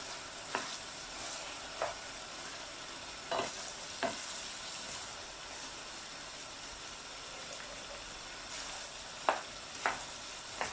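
Spring onions are stir-fried into fried rice, with a soft, quiet sizzle under a series of sharp, irregularly spaced spatula scrapes against the pan.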